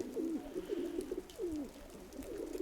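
A homing pigeon loft late in the breeding season carries soft, repeated rolling coos, several overlapping phrases in close succession, faint and moderately near with no talking.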